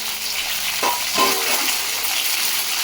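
Dried red chillies frying in hot oil in a pan for a spring onion pickle, a steady close sizzle throughout with a couple of brief bubbling spurts.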